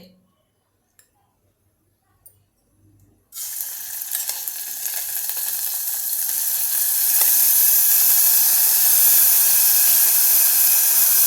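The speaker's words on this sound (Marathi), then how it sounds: "तर हे तूप गरम होऊन देत मग आपण थोडंसं पटकन परतवून घेऊया" Rice sautéing in hot ghee for a Maharashtrian sweet coconut rice: near-silence with a few small clinks, then a sudden loud sizzle that rises and holds as a steady, bright frying hiss to the end.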